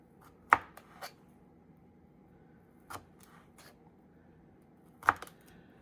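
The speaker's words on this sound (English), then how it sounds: "so we're gonna cut it into little strips now." A knife cuts vegetables into little strips on a board, giving a few sparse, crisp chops with short gaps between them in an otherwise quiet setting.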